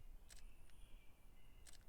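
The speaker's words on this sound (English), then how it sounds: "the Fujifilm, which is my ultimate favorite, bias included, has a beautiful quiet shutter" Two soft, quiet shutter clicks from a Fujifilm camera, spaced well apart, faint against a low background hiss.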